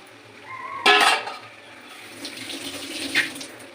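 Water from a chicken marinade bowl is poured into a simmering chicken curry, giving a short loud splash followed by quieter trickling and gurgling, close by with no speech.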